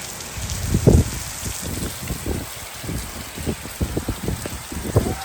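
Heavy rain falls steadily during a downpour in rural Punjab, a dense hiss broken by irregular louder patters and splashes, close and continuous with no voices.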